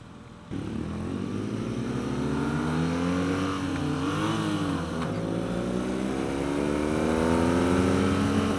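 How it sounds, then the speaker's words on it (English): Loud, close motorcycle exhaust that rumbles steadily, its pitch sweeping up and down as the rider downshifts, with a deep throaty note throughout. "That's a great sounding exhaust on the double R in front of me."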